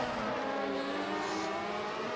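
Race cars roar continuously in the Assetto Corsa racing game at a 1991 Australian Grand Prix event, a loud, dense engine drone with overlapping cars and no break.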